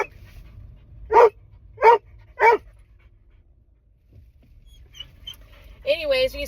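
A dog barks three times in a quick, evenly spaced series, loud and close, followed by quiet and then a brief voice near the end.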